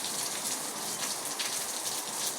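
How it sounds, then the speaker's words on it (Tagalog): Steady morning rain pours down in a continuous, dense hiss of drops on surfaces, loud and even throughout with no voices. "Na, ang ulan guys"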